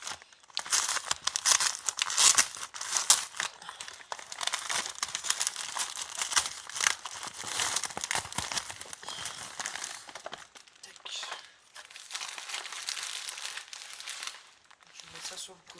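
Packaging crinkles and tears as a package is unwrapped close up, a busy run of rustling with a brief lull near the end and no talk over it.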